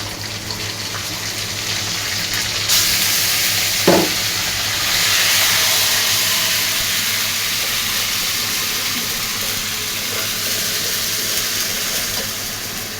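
Ginger garlic paste hitting hot oil with browned onion in a pan while cooking chicken with spinach, a steady loud sizzle and hiss with a brief stirring clatter early on, no talking.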